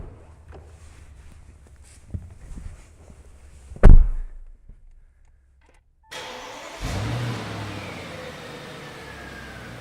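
A 2013 Audi S8 executive sedan, heard from outside, goes through a door thud and some shuffling, then a sudden start and a sustained engine rumble that holds at a steady, fairly loud level.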